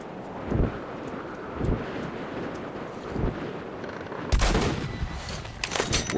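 Rifle shots in the video game Metro: Last Light: several sharp reports spaced a second or so apart, closing with a louder, fuller blast, all over a constant wind-like rush.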